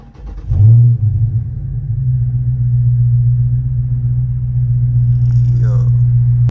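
Dodge Challenger Scat Pack engine after a warm start, a deep steady idle rumbling loud and close, rising from a brief burst into a sustained low drone with faint voices near the end.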